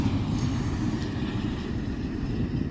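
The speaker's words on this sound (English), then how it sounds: "We would then see the next train, which would be a manifest led by a Banasev Jivo" Freight train rumbling past up close, a manifest pulled by a graffiti-marked locomotive in Elkhart, its heavy low roar steady and loud throughout with no voices.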